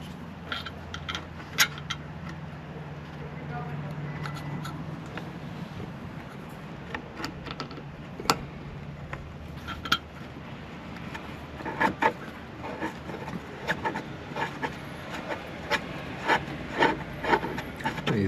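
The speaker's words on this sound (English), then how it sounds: "These self-tapping screws go pretty easily into the soft plastic, into my pilot hole." A Phillips self-tapping screw is driven into soft plastic through a pilot hole under a vehicle, giving a faint, close-up grinding rub with scattered small clicks and squeaks, with no talking.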